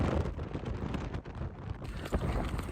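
Strong wind gusts of about 83 miles per hour in Derbyshire roar and buffet the microphone in heavy gusts, a rough low rumble that swells and dips with no voices.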